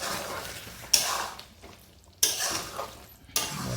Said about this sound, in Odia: ବର୍ତ୍ତମାନ ଆମର ଚିକେନ୍ କଷା ଚାଲିଛି।